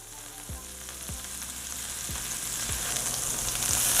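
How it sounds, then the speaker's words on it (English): Steak searing in a hot pan to crust up its side, giving a steady frying sizzle that slowly grows louder, with a few soft low thumps at regular intervals and no talking. "I like to crust up the side of my steak"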